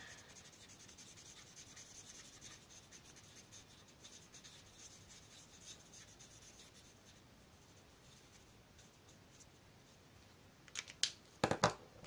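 A dark green alcohol marker is worked over the edges of a drawing on paper, making a quiet continuous scratchy rubbing, with a few sharper taps and clicks near the end.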